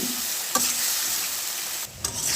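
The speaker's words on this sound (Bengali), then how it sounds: "এই পর্যায়ে বেগুনটা দিয়ে খুব সুন্দর করে কষিয়ে নিচ্ছি" Eggplant sautéing with spices in a hot pan gives a steady close sizzle, with a couple of brief stirring scrapes breaking through and no voices.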